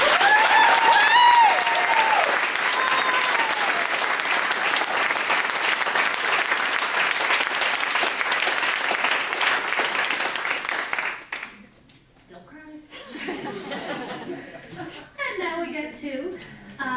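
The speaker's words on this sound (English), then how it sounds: "I'd like to give the instructors a nice round of applause" A graduation audience claps steadily for the instructors, a loud, dense wash of many hands that carries on for about eleven seconds before fading into quieter room sound and a voice.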